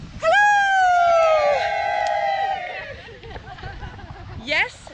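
Group of women on a beach along Ireland's Wild Atlantic Way letting out a loud, high-pitched collective whoop that trails off over a couple of seconds, followed by murmured chatter and a brief second shout.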